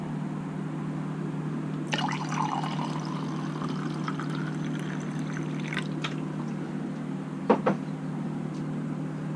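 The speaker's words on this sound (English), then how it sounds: "And you throw some water in there." Water poured into a drink glass over a constant low hum: a gurgling, splashing stream that starts abruptly, runs a few seconds, then gives way to a couple of small clinks and drips, with no voices.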